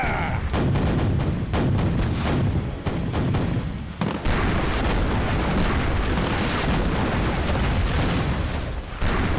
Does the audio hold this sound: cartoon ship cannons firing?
yes